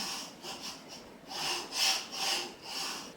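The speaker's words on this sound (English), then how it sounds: "Now, use your scraper to burnish that vinyl into the transfer tape." A scraper burnishing craft vinyl onto transfer tape makes a series of soft, rhythmic rasping strokes, about six or seven passes up close, with no speech.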